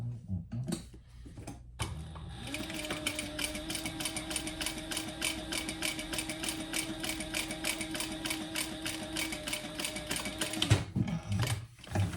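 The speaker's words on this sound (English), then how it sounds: "we're just going to sew across the bottom" A sewing machine sews a seam across the bottom of a crossbody bag, running steadily and close for about nine seconds with a rapid regular needle clatter and a steady motor hum, with brief handling sounds before and after.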